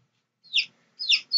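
Chickens on a family laying-hen farm make short high clucks and squawks, three brief bursts separated by silence, fairly close and clear.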